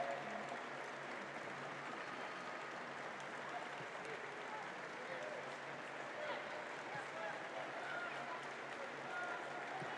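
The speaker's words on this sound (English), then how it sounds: "And the applause all around the stadium" Steady applause from a large crowd fills a football stadium at a women's Championship match between Southampton and Blackburn Rovers, distant and sustained throughout, with a faint murmur of voices in the background.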